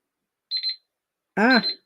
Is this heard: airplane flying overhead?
no